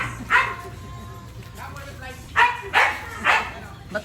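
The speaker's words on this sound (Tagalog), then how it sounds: "Natatakot ako sa asong malaki." A large dog barks in several sharp, loud bursts, one early and then three in quick succession near the end, while people talk nearby.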